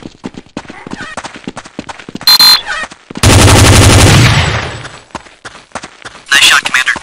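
Automatic gunfire in Counter-Strike: Condition Zero on a militia mission, loud sustained bursts breaking out over a second or so and fading, with shorter shots before and after, while squad voices and radio chatter run through the scene.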